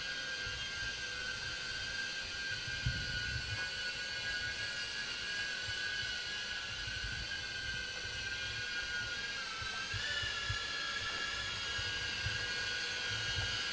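A Holy Stone HS420 mini drone flies steadily, its tiny propellers giving a continuous high-pitched whine that shifts slightly in pitch over a low rumbling background, with no talking.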